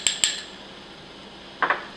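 A spoon clinks against a dish while stirring pectin powder into half a cup of maple syrup: two quick taps, a pause, then two more light clinks, close and clear in a quiet kitchen.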